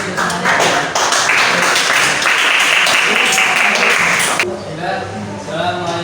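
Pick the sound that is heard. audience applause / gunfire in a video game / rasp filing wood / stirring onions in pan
audience applause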